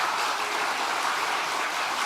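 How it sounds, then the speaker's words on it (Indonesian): A large political rally crowd claps loudly in a steady, dense wash of applause that fills the whole moment without pause. "Tepok keras dong."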